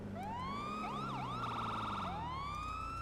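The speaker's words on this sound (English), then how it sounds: "if you want to switch the type of siren sound" A police car siren from GTA V roleplay rises into a wail, switches to a rapid yelp, then shifts back to a rising wail. It plays clearly and alone over a steady low vehicle hum.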